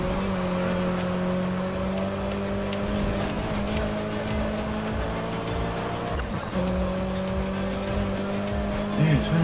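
Race cars in the Need for Speed Heat video game drive with a steady, loud engine drone and rising revs, tire squeal cutting in briefly, continuous throughout without speech.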